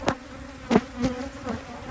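Agitated honey bees from a queenless hive buzz close by, with several sharp, loud passes zipping past at close range over a steady background drone.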